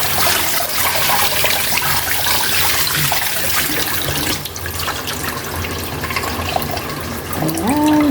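Pompano fish is rinsed under a running kitchen tap: a continuous, close splashing stream of water with small trickling variations.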